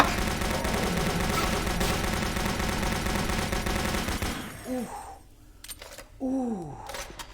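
Gunfire in Doom 3 VR, a dense, loud rapid burst of shots running for about four seconds, then stopping abruptly, followed by a few quieter scattered sounds and short vocal exclamations.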